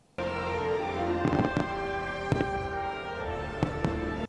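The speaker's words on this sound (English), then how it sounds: "There are the fireworks." Fireworks bursting in the theme-park video game HappyFunland: a steady crackling, fizzing bed with several sharp, loud bangs scattered through it and no talking.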